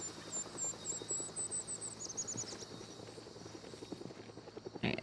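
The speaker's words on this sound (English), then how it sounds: "Well, there's my heli." Helicopter in a video game, a steady rotor drone running throughout at moderate distance, with small bursts of game noise over it and a brief louder bump near the end.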